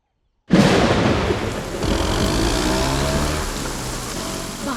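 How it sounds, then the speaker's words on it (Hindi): Heavy rain with rolling thunder, a dense broadband roar that starts abruptly and stays steady and loud, heard from a moving car. "बारिश हो रही है"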